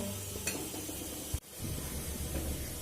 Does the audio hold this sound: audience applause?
no